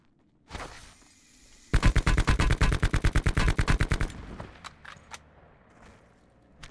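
Video game gunfire crackles in a rapid automatic burst of about twenty evenly spaced shots after a single opening shot, followed by scattered fainter pops and clicks.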